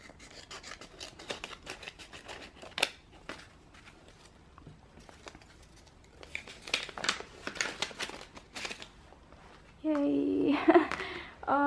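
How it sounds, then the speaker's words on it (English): Crinkling and rustling of packaging with a few sharp snips, scattered and close, ending in a burst of louder rustling and a brief tone. "I'm using my little scissors again just because they're quite convenient."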